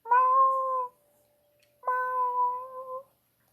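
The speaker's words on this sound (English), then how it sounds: "Your cats are answering." Two drawn-out cat meows sound close by indoors, one after the other with a short gap between them, each steady and fairly loud, with no talking.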